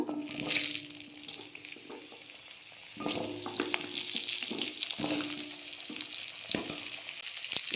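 Panch phoron and potatoes fry in hot oil, giving a close, steady sizzle broken by clattering stirs and sharp crackles, with bursts of louder hissing as ingredients hit the pan.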